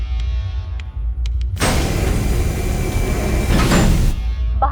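A spaceship's outer door slides shut in a movie sound effect: a loud, broad mechanical whoosh and grind that lasts about two and a half seconds, then cuts off abruptly after faint clicks.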